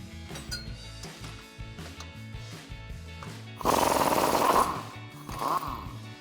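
A socket and wrench work loose the lower shock bolt on a Jeep Wrangler JK axle, sounding as a run of sharp metallic clicks and knocks followed by two louder grinding bursts near the end.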